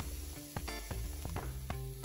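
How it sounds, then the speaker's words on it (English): Cheese sizzles in a hot nonstick pan, a steady frying hiss broken by several sharp crackles and pops, close and quiet with no talk. "Hear a little sizzle."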